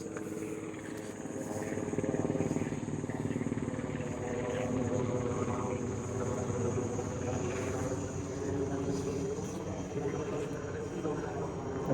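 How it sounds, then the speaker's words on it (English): A helicopter flies past outdoors as a steady, moderately loud droning rotor hum that lasts throughout, with faint insect chirping in the background. "I think a helicopter is going by."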